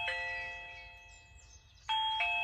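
A Reolink battery-powered video doorbell chimes its ringtone, a clear multi-tone electronic melody that rings out, fades, then strikes again loudly near the end.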